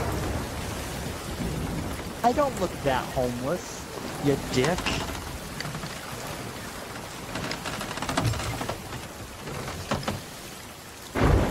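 Steady rain pours down during a thunderstorm at sea in a video game, with rumbling thunder underneath and someone talking over the downpour.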